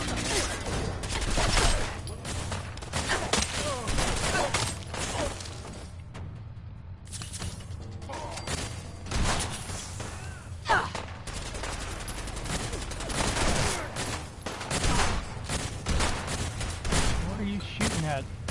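Repeated gunfire in the Fallout 4 video game on PS4, scattered bursts of shots and impacts spread throughout, mixed with game effects and occasional talking.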